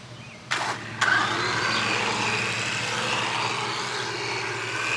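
DEERC 1:10 scale brushless RC car with a 3S battery running on its slow setting, a steady electric motor whine that starts abruptly and holds evenly, fairly close, with no talk.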